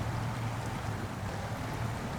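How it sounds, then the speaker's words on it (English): Truck in the SnowRunner video game wading through deep swamp water, a steady continuous sloshing and churning rumble that stays level throughout, with no talk. "We are taking a little bit of water damage in some of these deeper parts."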